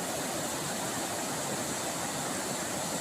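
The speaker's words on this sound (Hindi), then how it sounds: "इधर आप दिखाऊंगे ऐसे पानी पूरा ज़बरदस्त से जा रहा है" A river in full flow rushes past close by, a steady broadband roar of fast water that stays even and continuous throughout, with no voices over it.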